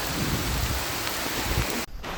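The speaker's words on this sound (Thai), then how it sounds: "ฝนตกเลยครับเละเทะ" Heavy rain pours steadily on a mountain trek in Thailand, a dense close hiss with low rumbling that could be thunder, cut off abruptly near the end.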